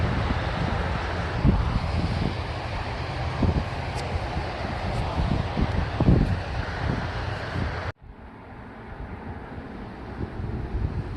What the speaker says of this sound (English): Apologies for road and wind noise